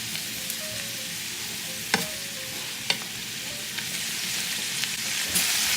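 Garlic sizzling in a pan over medium-high heat alongside ground beef and cabbage, a steady close frying hiss with a few sharp utensil taps against the pan, growing slightly louder toward the end.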